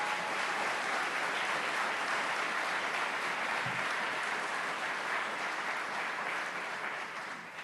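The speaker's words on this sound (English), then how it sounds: "Let's give him a round of applause and thank him." At a Gay Officers Action League ceremony, the crowd claps for the police commissioner. The applause is even and continuous but fairly soft and distant, easing off slightly toward the end.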